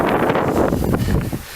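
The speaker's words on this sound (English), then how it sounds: "So far, been little gusts of wind, nothing that bad at all." Gusts of wind buffet the microphone on a wet mountain trail in the White Mountains while backpacking, a loud rumbling roar that swells and eases over a second or so.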